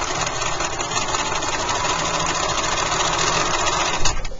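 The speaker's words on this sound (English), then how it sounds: "I'm going to go in between there and do another line, another stitch line, just to reinforce that" Sewing machine running steadily while stitching a reinforcing line on a bag, a continuous close mechanical whir with dense rapid needle clatter and no pauses.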